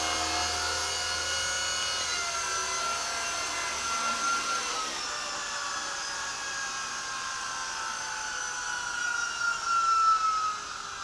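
An Eachine E130 RC helicopter flies indoors with a steady, close rotor whine and motor buzz, holding level throughout and swelling a little louder near the end as it lifts back up.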